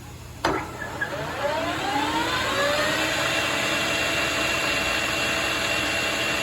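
A Koan Cho KC1640 metal lathe spins up to one of its higher speeds, around 1,000 rpm, settling into a steady, smooth whir with a rising tonal hum that holds alone.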